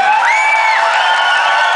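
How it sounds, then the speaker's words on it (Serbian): A concert audience at a band's reunion show cheers loudly, with whoops and shouts blending into a dense, steady roar of crowd noise that continues throughout. "Ajmo jedan aplauz za njih, molim."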